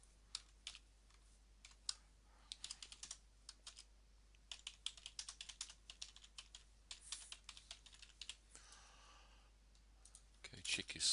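Someone types alt text and captions on a computer keyboard in irregular, fairly quiet bursts of clicking keys, with a soft sigh partway through and no talking.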